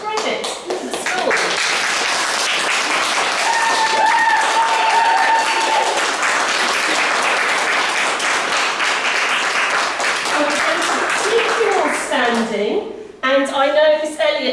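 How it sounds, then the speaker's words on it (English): School staff give a round of applause to Year 6 graduates at a graduation ceremony, a sustained dense clapping that fills most of the clip before cutting off, followed by a brief burst of voices near the end. "the staff are going to give you a round of applause"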